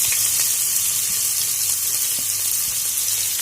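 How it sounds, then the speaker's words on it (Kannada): Onions sizzle steadily in hot oil in a pan with whole spices for egg biryani, a continuous close frying hiss with faint clinks, and no voices. "ಈರುಳ್ಳಿನ ಚೆನ್ನಾಗಿ ಫ್ರೈ ಮಾಡ್ಕೊಳ್ಳೋಣ."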